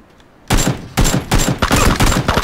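Video game gunfire from two enemy teams comes in loud, close bursts of rapid shots after a short quiet start, with the volleys overlapping in quick succession.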